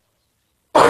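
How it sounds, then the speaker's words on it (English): A woman coughs once, a short loud burst breaking abruptly out of silence near the end. "I'm sorry if I'm coughing and sniffing."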